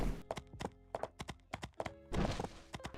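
A horse gallops in the video game Portia, its hooves clip-clopping in quick, uneven clusters of loud thuds with a denser flurry near the end, and no voices over it.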